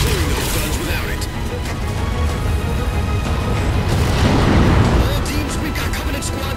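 A Pelican dropship goes down in Halo 4 amid a loud, dense wash of battle noise, with booming blasts and crashing debris rolling over a steady roar for several seconds.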